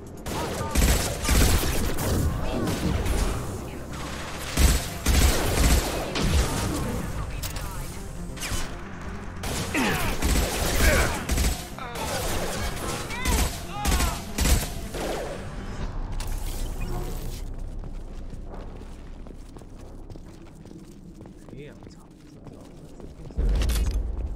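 Gunfire rattles in the Mass Effect 2 video game, dense bursts of weapon fire and mechanical clanks crowding a combat scene, loud and near, with occasional game voices in between.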